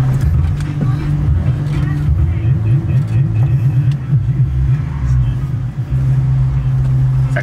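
An Audi R8 sports car rumbles in with a deep, steady engine drone and slight throttle swells, fairly close and loud, while people talk over it.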